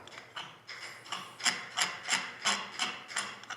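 A hand tool unscrews screws on a Can-Am governor cup, producing a regular series of close, clicking ratchet strokes, roughly three per second, with quiet gaps between each.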